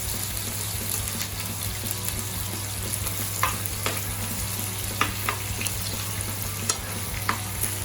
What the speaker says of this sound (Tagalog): Then maglalagay tayo ng butter.